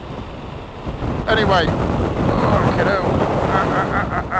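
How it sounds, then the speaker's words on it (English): Wind gusts buffet a rider on a Yamaha XT1200Z Super Tenere motorcycle, a steady roaring rush across the microphone that continues throughout, with someone talking briefly over it. "Getting blown around a bit up here today. It is rather windy."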